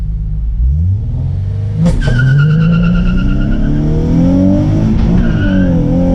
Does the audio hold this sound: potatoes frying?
no